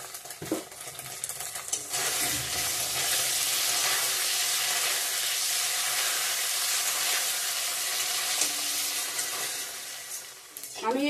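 Dried red chillies, cumin seeds and bay leaf dropped into hot oil for a paneer curry tempering, bursting into a loud, steady, close sizzle that holds for several seconds before easing off.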